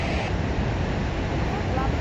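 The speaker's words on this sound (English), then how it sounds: "it's pretty windy right now" Strong wind buffets the microphone at a mountain waterfall viewpoint, a loud, steady roar of blustery rumble mixed with distant falling water and no clear pauses.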